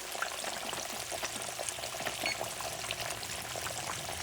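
Fish frying in a pan for a few more minutes, a soft, continuous crackling sizzle with faint bubbling, low and steady with no talking.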